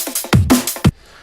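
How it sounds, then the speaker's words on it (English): A drum and bass drum loop sounds alone: a few punchy kicks and crisp snare hits with bright hi-hat ticks in a brisk, syncopated rhythm. "once you add in the drum loop, which sounds like this."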